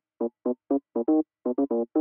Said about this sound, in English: I just copy the bassline down to another channel, which has an organ sound to it, and shift the whole bassline up one octave